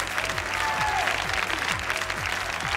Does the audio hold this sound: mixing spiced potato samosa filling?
no